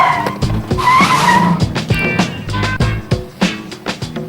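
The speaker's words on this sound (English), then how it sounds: "Braking, of course." A race car brakes hard on a racetrack, with loud, close tire squeal and skidding rising over the engine, then choppy engine bursts as it slows.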